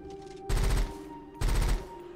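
A burst-fire weapon in the video game Rusted Moss fires two quick bursts of rapid shots about a second apart over a steady electronic background hum.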